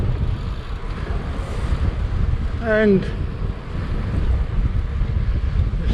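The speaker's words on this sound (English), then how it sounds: "The wind is very strong," Strong wind by the sea buffets the microphone in a steady roar, with a brief rising engine whine and a spoken word partway through.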